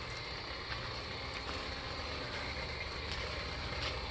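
A greenhouse cover motor at a succulent farm runs steadily in winter, giving a faint, continuous mechanical hum with no talking.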